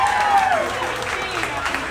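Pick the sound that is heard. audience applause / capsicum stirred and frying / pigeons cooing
audience applause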